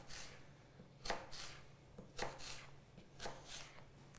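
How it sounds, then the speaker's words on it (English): An apple being sliced with a knife, four or five soft, close cuts landing on a board at a slow, uneven pace, quiet overall. "I'm going to cut each piece of my apple into slices"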